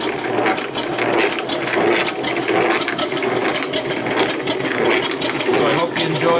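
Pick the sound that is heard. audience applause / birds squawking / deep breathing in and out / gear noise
gear noise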